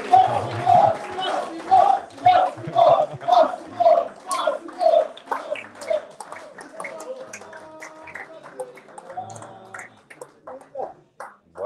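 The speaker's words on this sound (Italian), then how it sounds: "farei un calorosissimo applauso" Audience at a club evening welcomes guest Massimo Maccarone with rhythmic clapping, chanting voices and cheers from a lively crowd that gradually loosens into scattered noise and chatter.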